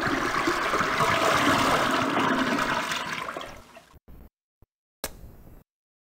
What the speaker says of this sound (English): here's what happens if you flush